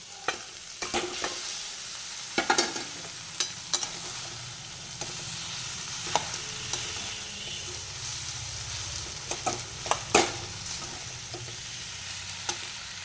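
Boiled noodles go into a hot pan for veg chowmein, with a soft steady sizzle under sharp intermittent clacks and scrapes of a utensil, close and clear, without talk.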